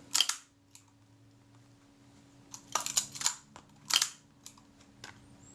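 A Reflex IV camera's shutter fires twice, each firing a sharp mechanical click burst with a brief delay between closing and release, close and crisp over quiet room hum.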